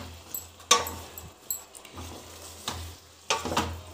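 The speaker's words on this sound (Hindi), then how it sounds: "इसको अच्छे से भूज के कम आँच पे धीरे धीरे पकाएंगे" Boda sabzi fries in a pan over low heat, a soft steady sizzle broken by several sharp scraping stirs of a spoon against the pan at irregular intervals.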